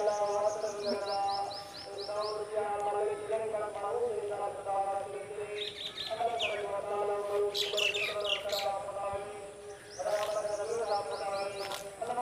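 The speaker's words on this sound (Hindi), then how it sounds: "ये सामने जो है ना चिड़िया वगैरह खेल रही हैं" Birds chirp on a village morning in Pakistan, with repeated bright tweets and trills from several birds, fairly close and clear, in short bursts across a quiet outdoor background.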